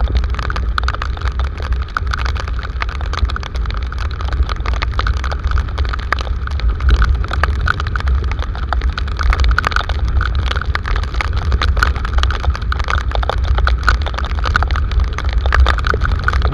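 Heavy rain pours on a car driving along a road in Valparaíso de Goiás near Brasília, a steady loud hiss of water mixed with low road and engine rumble, with no talking.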